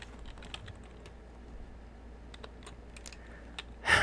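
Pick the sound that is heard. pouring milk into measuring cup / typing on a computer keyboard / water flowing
typing on a computer keyboard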